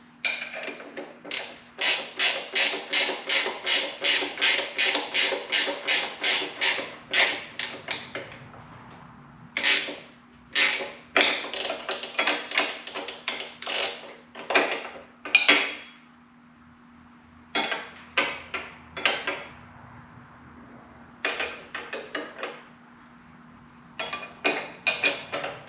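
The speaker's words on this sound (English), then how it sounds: "Tighten up the bottom and top shock mounts, and we'll be all set here." Metallic ratcheting and clanking as bolts on the bottom and top shock mounts of a 1985 Harley-Davidson Sport Glide FXRT are tightened, in rapid bursts of clicks with pauses between, up close and alone.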